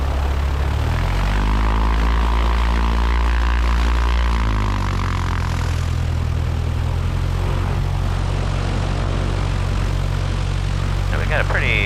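Cessna 172 single-engine propeller aircraft taxiing, its engine a steady loud drone with a rumbling low hum and shifting tones throughout, with radio talk over it.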